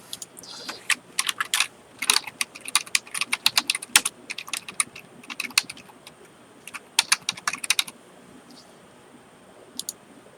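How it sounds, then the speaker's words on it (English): A password is typed on a computer keyboard in close, crisp bursts of clicking keystrokes, separated by short pauses, with no voices. "Nobody can see me typing in my password"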